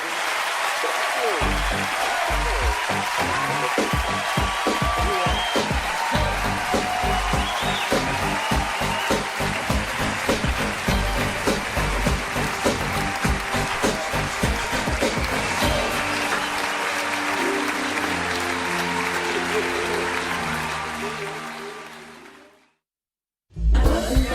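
Sustained audience applause closing a stand-up comedy set, dense steady clapping filling most of the stretch before cutting off abruptly.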